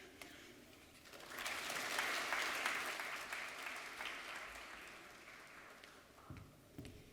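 Applause from an audience at a graduate orientation for presenters, faint and distant, swelling after a second, peaking, then gradually thinning out with a few scattered claps at the end.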